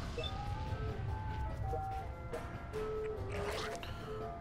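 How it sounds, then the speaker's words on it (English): Ice cream truck jingle from the Fallout Shelter video game, a loud, steady tinkling melody of sustained tones playing over a constant low background hum, with no talking. "that ice cream truck is extremely loud"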